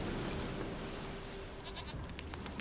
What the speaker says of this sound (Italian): Oh, sento il belare.